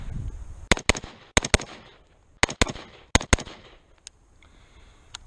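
A 1911 pistol fitted with a CMC flat trigger fires in quick pairs: four close double-taps of sharp, loud cracks spread across several seconds, then two lone shots, each ringing briefly in an outdoor range.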